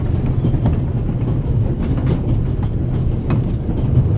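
Moving train in the video game The Raven, a steady low rumble with faint rhythmic clatter that runs at an even level throughout, with no voices.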